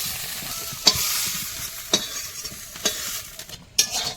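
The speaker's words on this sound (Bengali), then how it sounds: "লবণ হলুদ দিয়ে বেশ লাল লাল করে ভেজে নিয়েছি" Potatoes frying with salt and turmeric in a pan, a loud continuous close sizzle with a few sharp stirring clacks and spatula scrapes spaced about a second apart, alone without any voices.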